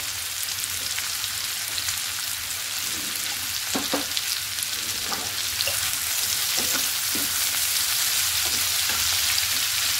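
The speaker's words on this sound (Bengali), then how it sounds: "পেঁয়াজটা লাল করে ভাজা নিয়েছি" Onions with a pinch of salt fry in hot oil, a continuous bright sizzle with occasional crackles and stirring scrapes, close and steady with no talking.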